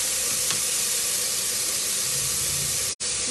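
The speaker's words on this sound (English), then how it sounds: "We're just going to saute that in the pot." Green peppers, red peppers and onions sautéing in a pot for black rice, giving a steady close hiss and sizzle that cuts off briefly near the end, with no voices.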